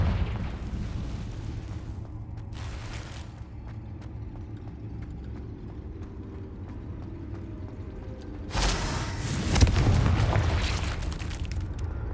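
Confringo fire spell in Hogwarts Legacy: one loud, broad explosion erupts late, after a long stretch of low ambient rumble and a brief earlier flare, then rolls off gradually.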